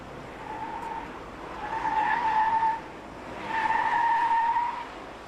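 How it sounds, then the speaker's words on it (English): Tires of a Saab 9-5 Aero squeal while drifting at a Nürburgring drift academy: two sustained, steady squeals of about a second each, separated by a short gap, over a constant engine and road rumble. "a squealing tire is a happy tire, so a little bit of tire noise is good"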